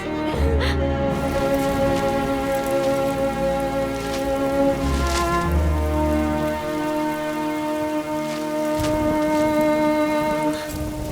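Rain falls steadily throughout, a continuous hiss of drops on surfaces, mixed with tonal background music.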